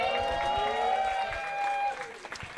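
Comedy show crowd in New York applauding and cheering, with loud whoops and shouts over clapping that thin out into a few scattered claps near the end.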